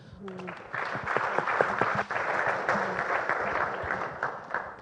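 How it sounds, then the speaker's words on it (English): Steady applause from an audience fills the clip, with a brief voice heard at the start under the clapping. "Let's have a round of applause to our panelists."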